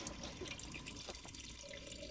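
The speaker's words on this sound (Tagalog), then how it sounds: "Lagyan natin ng tubig." Water pours steadily into an aquarium tank during a water change, a continuous faint splashing and trickling wash for about two seconds with no talk.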